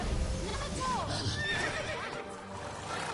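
Unicorn mount in The Witcher 3: Blood and Wine neighing, a close whinny with hoof clip-clop beneath, mixed with game sound, and talking over it.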